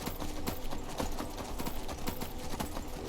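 Horse hooves clip-clopping at a steady walking pace in the video game Skyrim, in the Reach region, rhythmic clopping over a continuous background bed.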